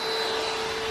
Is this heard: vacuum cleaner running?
yes